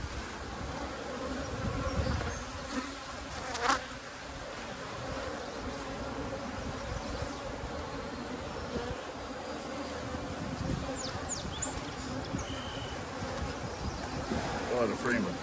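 Honeybees hum steadily around open hive frames with comb being built, a dense, continuous buzz close by, with occasional louder passes as individual bees fly near.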